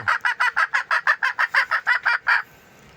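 A hen clucks loudly and rapidly up close after laying an egg, giving about a dozen evenly spaced squawks before falling quiet.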